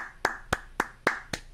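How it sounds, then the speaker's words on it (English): Five sharp, evenly spaced hand claps ring out close and crisp, about a quarter second apart, during a game of Americlap. "I wonder how many calories you burn by clapping."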